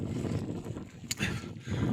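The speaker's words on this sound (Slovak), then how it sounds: "Prší, fúka, viditeľnosť sa znižuje." Wind on a mountainside above Krivánsky žlab in the High Tatras buffets the microphone with a low, continuous rumble and rushing gusts amid rain, and no one speaks.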